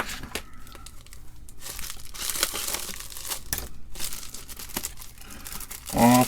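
Plastic packaging for a small replacement part for a MITS 88 SIOB serial card in an Altair 8800 being opened: steady crinkling and tearing rustle, close and loud, running throughout with a louder burst near the end.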